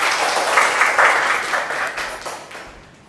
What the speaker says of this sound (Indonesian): Tepuk tangan dong untuk Rizky.